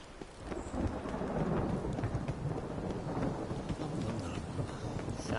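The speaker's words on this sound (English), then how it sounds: "Sounds like thunder." A video game thunderstorm rumbles on: deep continuous thunder under a steady hiss of rain, dense and even throughout, with no voices.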